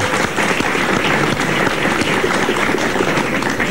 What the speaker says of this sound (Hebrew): חיות כפיים לציון שלנו.